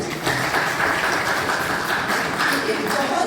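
An audience at a prayer-assembly speech competition for the Shri Gita Jayanti festival applauds in a steady, dense wash of handclaps that holds at an even level throughout.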